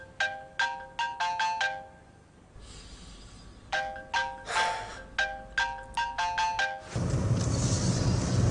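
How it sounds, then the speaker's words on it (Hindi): A phone ringtone plays rapid bursts of bright chiming tones in repeated groups, separated by short pauses with low background noise. "आपका फोन आ रहा है"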